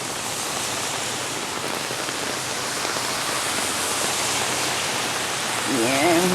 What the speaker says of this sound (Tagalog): grabe yung ulan, lakas. Walang tigil ng ulan.